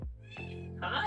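A house cat meows up close, two drawn-out, rising and falling cries in quick succession.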